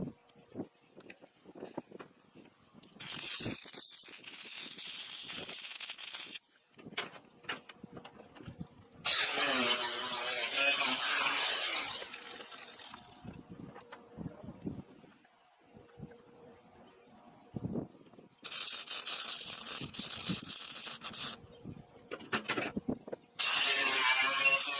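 Welding a finish weld on a steel barrel grill: bursts of harsh, crackling arc noise, each lasting several seconds, alternate with quieter gaps of small clanks and handling sounds.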